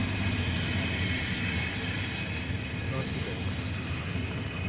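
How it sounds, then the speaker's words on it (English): A Norfolk Southern freight train rolls past outdoors with a steady, loud low rumble that holds throughout, with faint talk in the background. "This train's heading down to the Pitcairn Road."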